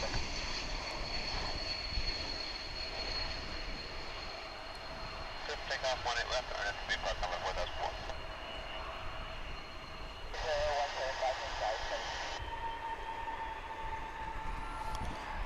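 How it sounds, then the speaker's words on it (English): A Delta Airbus A220 jet arrives at DFW International Airport, its engines a faint, low rumble underneath a person talking, with a few brief tonal bursts midway. "That A220 was coming in from Salt Lake City."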